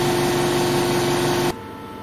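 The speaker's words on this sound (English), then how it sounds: "pretty quiet compressor just started up then over the back there" A compressor on a 100 W laser cutter runs with a steady hum and hiss, then cuts off abruptly, leaving a quieter background hum.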